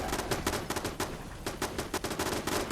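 Automated turrets in Fallout 76 fire rapid, relentless bursts of gunfire, a dense stream of sharp shots stacked close together and loud for the whole stretch.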